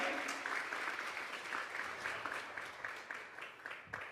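A church congregation claps together during a Sunday morning worship service, the applause steady, dense and full throughout, with faint voices mixed in beneath.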